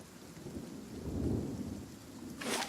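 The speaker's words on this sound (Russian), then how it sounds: "О, дождик пошел." Rain begins to fall in the fantasy role-playing game Pillars of Eternity, a steady soft wash of rainfall with low rumbling that swells in the middle, then a brighter hiss of heavier rain at the end.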